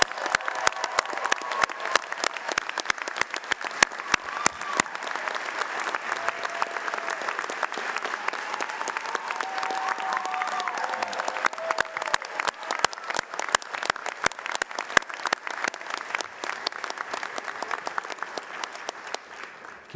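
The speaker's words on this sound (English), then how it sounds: "Loud round of applause for our newest doctoral students." Sustained, loud applause from a large audience greeting new doctoral graduates at a Clemson University hooding ceremony, dense steady clapping filling the hall throughout with sharper individual claps standing out.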